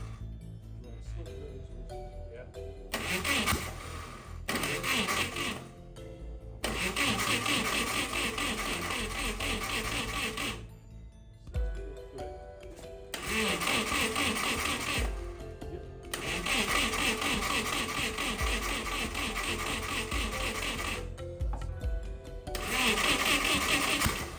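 A 300HP race engine in an abandoned 1980s supercar cranks repeatedly while trying to start, with long whirring starter bursts broken by short pauses and uneven catching pulses, loud and close.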